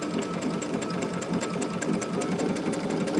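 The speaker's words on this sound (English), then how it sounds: "we're stitching down that raw edge" A sewing machine runs continuously and fast while stitching down the raw edge of a fabric applique, a close, steady rapid whir with even ticking and no voices over it.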